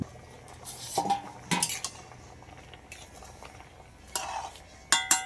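A lid set onto a pot of dal simmering with green chillies and ginger: several sharp metallic clanks and clinks of utensils and cookware in short bursts, close by, with quiet gaps between them.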